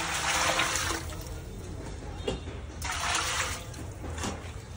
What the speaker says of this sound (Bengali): এই যে জুসটাকে ঢেলে দিলাম।